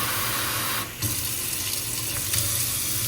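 A kitchen sink tap with a pull-out hose runs water steadily, a dense close hiss with a brief dip and small bumps as the spray shifts, and no voices.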